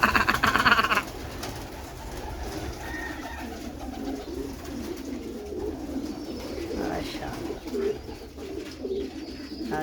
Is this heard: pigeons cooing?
yes